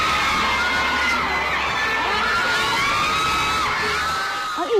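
A huge crowd at a Christmas party event screams and cheers, thousands of voices shouting in a continuous loud roar with shrill whoops rising above it, ending in a brief sharp noise.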